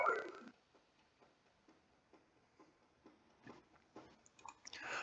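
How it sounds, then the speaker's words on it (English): A dog gnaws on a bone in the background, giving faint, irregular clicking and crunching bites spread across a quiet room, with a louder burst at the start and end. "My dog is chewing her bone very, very, very loudly in the background."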